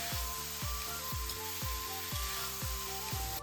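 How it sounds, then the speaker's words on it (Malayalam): Marinated chicken pieces frying in hot coconut oil, a close sizzle with regular rhythmic scraping strokes, about two per second, as the meat is mixed in the pan, no voices. "നമ്മൾക്ക് ചിക്കൻ അതിലേക്ക് ഇട്ട് നന്നായി മിക്സ് ചെയ്ത് എടുക്കാം"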